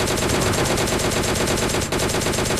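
Rapid, continuous gunfire from the video game PUBG Lite, dense automatic bursts filling the whole clip at a steady loud level.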